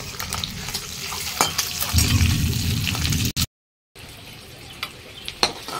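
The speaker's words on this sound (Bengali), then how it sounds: "ডিমগুলো ভাজা হয়ে গেছে" Peeled boiled eggs rubbed with turmeric sizzle and crackle in hot oil in a wok, a steady frying hiss with occasional stirring clatter, then a brief cut to silence before softer sizzling resumes.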